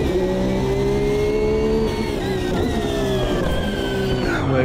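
An LMP1 prototype race car in Automobilista 2 roars steadily up close, its engine pitch stepping and sliding through the gears as it brakes into a turn, loud and continuous with no talk.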